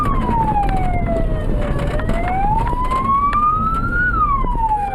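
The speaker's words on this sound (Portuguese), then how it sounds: "os motoristas ligam sirenes para alertar possíveis pedestres sobre a" An emergency vehicle siren wails loud and close on an unlit dirt road in rural Bolivia, its single tone sliding down and then rising again in a slow sweep over a steady rumble of engine and road noise.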